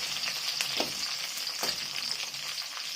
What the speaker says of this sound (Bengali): এবার এতে দিয়ে দেবো ভেজে রাখা আলুগুলো